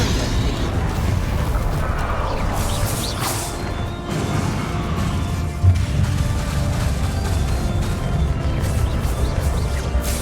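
Fiery blast spell in Hogwarts Legacy, a dense roar of crashing, booming game combat with sharp thuds and bursts layered throughout, loud and continuous with no clear pauses.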